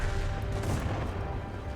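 Tank cannon fire in a tank video game, with a Vickers 6-ton light tank in play: a dense, loud, rumbling burst of battle noise with a sustained low boom that fills the short moment without pause.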